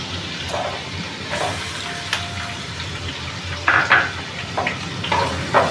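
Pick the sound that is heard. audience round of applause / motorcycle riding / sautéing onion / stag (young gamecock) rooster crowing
sautéing onion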